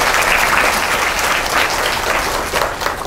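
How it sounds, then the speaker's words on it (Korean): An audience at an information session on international organisation careers gives a consultant a big round of applause. The dense, even clapping holds steady at full strength throughout. "큰 박수 부탁드립니다"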